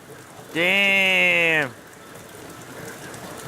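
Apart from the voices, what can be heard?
heavy rain hitting garbage cans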